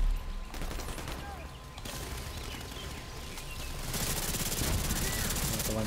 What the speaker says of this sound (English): it sounds weak when it shoots. Yeah. It's because of the suppressor.